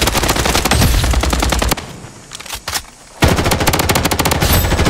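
Automatic weapon gunfire in the Blood Strike mobile shooter game, loud rapid bursts of shots, then a brief quieter gap with scattered sounds before another fast burst resumes.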